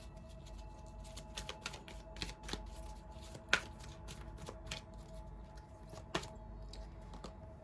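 Tarot cards are shuffled by hand in a rapid run of riffling snaps and soft slaps, close and fairly quiet, with a few sharper card clicks standing out.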